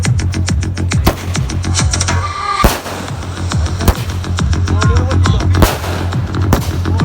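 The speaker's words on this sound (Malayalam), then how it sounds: "ഇനി പടക്കം പൊട്ടിക്കലാണ്, പടക്കം പൊട്ടിക്കല്" Firecrackers burst at a local football tournament final in a stadium. A loud, close string of sharp cracks and bangs comes in quick, uneven succession for the whole stretch.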